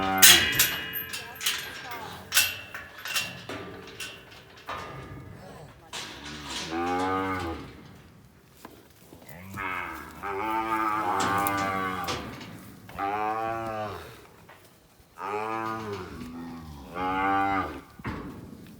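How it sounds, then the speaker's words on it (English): Beef cattle mooing during a mountain muster, a series of loud, drawn-out lowing calls from several animals, some near and some further off, with a person speaking between them. "Come on, Mummy cows, walk away from the gate."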